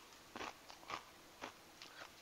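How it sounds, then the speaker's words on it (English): Repeated crunchy bites into homemade fry bread, a series of sharp, close crackling crunches spaced a fraction of a second apart with quiet between them. "And there's crunchy fry bread."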